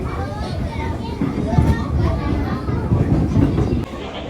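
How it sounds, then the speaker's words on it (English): Many children chatter and call out together in a crowded Tokyo train carriage, a dense close murmur of young voices over the low rumble of the moving train. "There are so many children on this train now."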